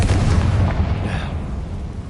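A Confringo fire spell explodes in Hogwarts Legacy, a loud, deep boom at the start that rumbles and fades over about two seconds.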